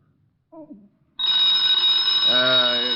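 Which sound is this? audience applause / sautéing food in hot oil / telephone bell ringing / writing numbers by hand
telephone bell ringing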